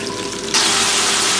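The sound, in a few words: potatoes and cauliflower frying in a pan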